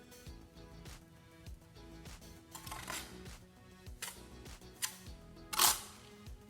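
Steel trowel scraping and tapping wet mortar while a brick pier is laid and kept clean, a run of short, close scrapes and clinks with a sharper knock near the end.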